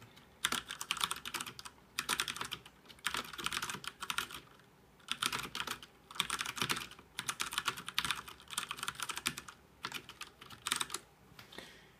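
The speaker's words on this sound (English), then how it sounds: "we're going to do a little sound test for the Cherry MX Brown switches" Steady typing on a Ducky Shine 3 mechanical keyboard with Cherry MX Brown switches, bursts of rapid clacky keystrokes separated by brief pauses, close and fairly quiet.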